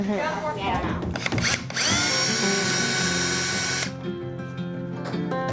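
A power drill backs screws out of the deck of a Siren 17 sailboat under restoration, giving close, loud whirring bursts with a long sustained run in the middle, and voices talk around it.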